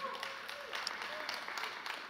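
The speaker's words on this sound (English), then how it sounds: "That's why you clapped." Church audience applauding during a sermon, a steady patter of many hands clapping at moderate volume, with a voice speaking over it.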